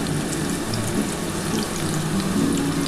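Whole garam masala spices fry in hot oil in a pan for spicy chicken kosha, giving a steady, even sizzle and crackle at close range with no talking.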